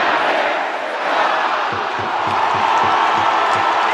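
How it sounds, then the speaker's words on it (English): A Port Adelaide home crowd roars at an AFL football match, a steady, loud, massed swell of cheering voices that fills the whole stretch without a break. "There's a bit of feeling in that one from the home crowd."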